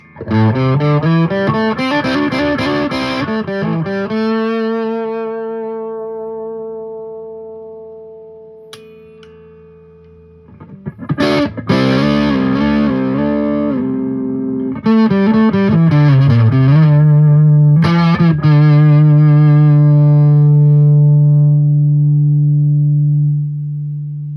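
A 1994 PRS McCarty electric guitar run through distortion and effects, ringing sustained chords and single notes with rich harmonics, a brief drop in level midway, then loud strummed chords and a long held note.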